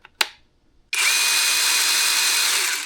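A new cordless chainsaw gives a couple of small clicks as the trigger is pulled, then spins up into a steady, fairly loud high whir that holds to the end.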